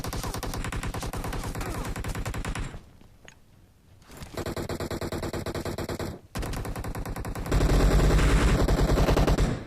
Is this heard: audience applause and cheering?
no